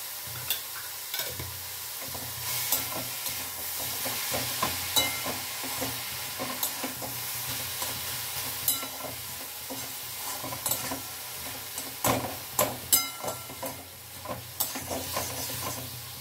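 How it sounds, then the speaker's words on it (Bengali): Spinach fries in a pan with salt and sugar while a spatula keeps stirring it. Frequent clattering scrapes sit over a continuous oily sizzle, close up, with no talking. "ফ্রাই হয়ে এসছে পালং শাক ভাজা।"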